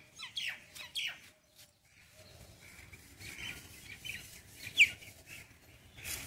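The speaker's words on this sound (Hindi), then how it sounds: "चिड़िया है, खूब बढ़िया चिल्लाते हुए, मस्त मस्त खूब चिल्ला रही चिड़िया" A myna, or kilhati, calls in a garden with guava trees and flowers: a few sharp chirps early on, then faint, distant squawks over light outdoor rustle.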